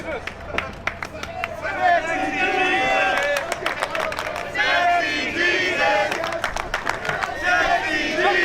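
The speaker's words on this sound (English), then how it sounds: "You hear the crowd" A wrestling show crowd in a ring arena roars and cheers loudly and continuously, with chanting voices and scattered shouts rising and falling throughout, sustained and dense from start to finish.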